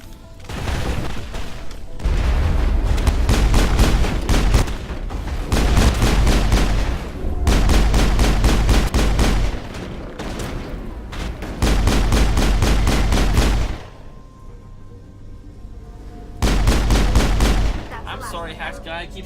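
Mass Effect combat on Feros with loud automatic weapon fire in long sustained bursts, five or six separate volleys broken by short pauses, and someone talking between them.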